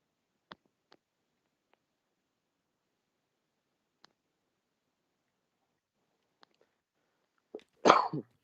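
A person coughs once in a short, loud burst near the end of an otherwise quiet indoor stretch, with a few faint clicks and ticks beforehand.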